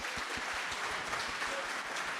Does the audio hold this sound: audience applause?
yes